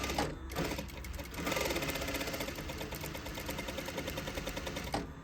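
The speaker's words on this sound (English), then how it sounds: "We're going to sew 5/8 down a regular seam." A domestic sewing machine stitches a regular 5/8 seam in fabric, a fast, steady mechanical chatter heard up close, with brief pauses at the start and end for back tacking.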